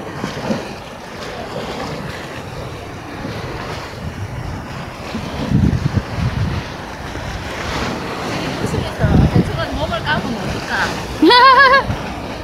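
Ocean surf washing against the rocky Yongmeori coast on Jeju, a steady broadband wash with wind buffeting the microphone, people talking over it and a brief chirping sound near the end.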